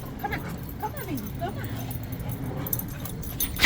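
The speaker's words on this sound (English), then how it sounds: "Cute little puppy" A small puppy whimpering and yipping with excitement, thin high whines rising and falling in short bursts close by, while people talk softly over it and keys jangle briefly.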